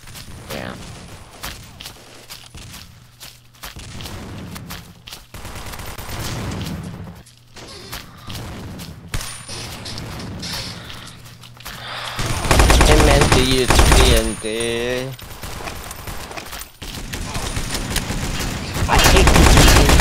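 Gunfire in the Blockade 3D video game on a Lab map, dense rapid automatic bursts and repeated shots, loud and close, mixed with game effects and people talking over it.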